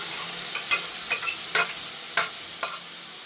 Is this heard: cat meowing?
no